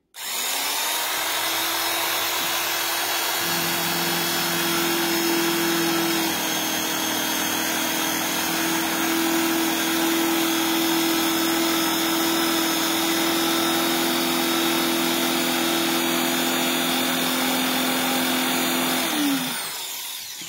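An electric rotary cutter whirs steadily as it slices through fabric, a continuous close motor tone lasting about twenty seconds before spinning down, with no talk.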